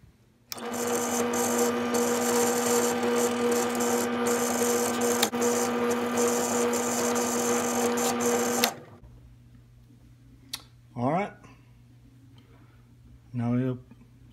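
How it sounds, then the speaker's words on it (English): A drill press runs with a loud, steady whine as holes are drilled in a muzzleloader part for about eight seconds, then it cuts off and someone speaks briefly twice over a low hum. "And now I'll take it over to the drill press and drill those out."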